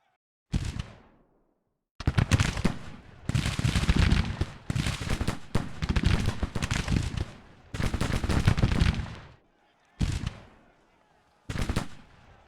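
Musket volleys crack out in a reenactment battle. Seven or eight loud bursts of ragged, rolling gunfire follow one another at close range, separated by brief silences, with no talk.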